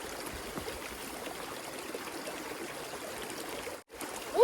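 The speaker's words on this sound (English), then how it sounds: "Just left Custer and entering into the Black Elk Wilderness at Iron Creek, and I'm going to fill up on some water." Cold creek water flows at Iron Creek in the Black Elk Wilderness, a steady rushing and trickling stream close by during filling, continuous for several seconds with a brief drop-out near the end.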